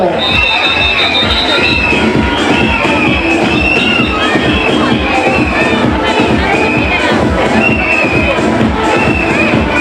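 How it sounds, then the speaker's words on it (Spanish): At an Antroido carnival prize ceremony, a large crowd cheers and shouts loudly for the scarecrow costume winners. Children's voices and high whistle-like tones ride over a dense, continuous roar of noise. "Ese aplauso fortísimo para los espantapájaros que se llevan ese premio especial de jurado."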